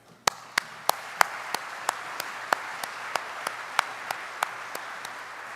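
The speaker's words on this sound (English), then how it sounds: "Please join me in a round of applause for all of our executive leadership partners." Convention audience at an annual healthcare convention opening general session giving a round of applause, a steady wash of clapping with a few sharp, louder claps standing out at regular intervals.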